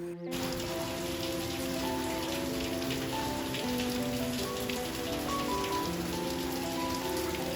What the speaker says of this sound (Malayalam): ഞാനിന്ന് രാവിലെ വാതിൽ തുറന്നപ്പോൾ തന്നെ നല്ല മഴയായിരുന്നു